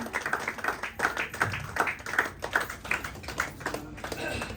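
An audience at a Nepali community event claps in a steady rhythmic beat, each clap sharp and regular, moderately close, with a few faint voices underneath.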